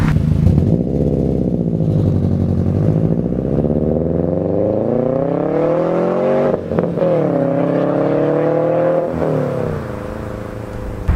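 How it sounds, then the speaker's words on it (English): Subaru WRX exhaust with a Nameless Performance muffler delete, a loud, raspy rumble that rises and falls through several revs and gear changes, steady and close throughout with no talking. "this is one of the best sounding exhausts"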